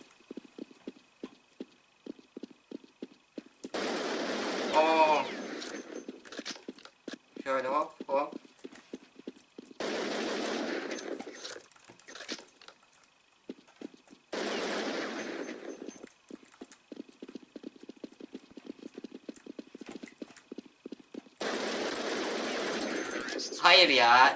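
Counter-Strike 1.6 gunfire comes in rapid rhythmic bursts of shots, alternating with stretches of people talking over the game.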